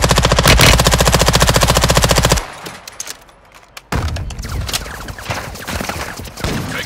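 Rapid automatic gunfire in Call of Duty Warzone 2.0 Plunder quads, a loud sustained burst of machine-gun shots followed by a brief lull, then more scattered shots and clatter continuing.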